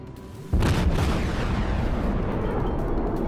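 Warship main battery guns firing at a target in World of Warships, a single heavy boom that swells into a long, loud rolling roar, close and alone without talk.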